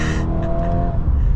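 A Volkswagen Golf R Mk8.5 Black Edition engine hums steadily as the car drives, a close, continuous tone that fades slightly toward the end, with no talk.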